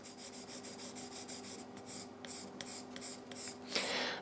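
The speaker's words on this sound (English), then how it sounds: "This is the way how to use the side of the pencil." A graphite pencil lead is stroked on its side across paper, giving a soft rhythmic scratching and rubbing in repeated strokes, close and quiet, ending with a brief louder scrape.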